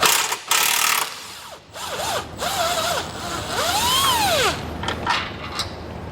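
A power tool whines and ratchets in short bursts, its pitch swooping up and down as it spins a subframe bolt loose, close and fairly loud.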